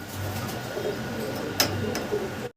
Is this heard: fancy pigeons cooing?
yes